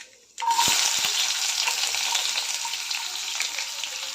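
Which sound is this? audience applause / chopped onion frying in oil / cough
chopped onion frying in oil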